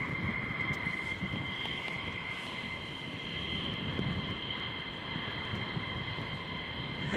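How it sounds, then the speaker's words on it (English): Mountain Home F-15 fighter jets taxi out, a steady droning whine of engines holding at a distance without pause. "And taxiing out right now. You can see those mountain home F-15s."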